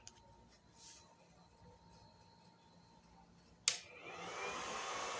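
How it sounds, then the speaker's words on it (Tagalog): An electric fan powered by a 25Ah sealed lead gel battery switches on partway through after a quiet stretch, with a sharp click followed by a steady, airy whoosh that holds at a constant level. "Tingnan natin kung mapapatakbo niya itong electric fan"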